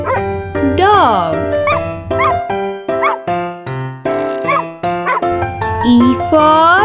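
Cartoon dog barking sound effect in a children's alphabet song, a few short yips and bow-wows set over bright sung melody and backing music, loud and upfront.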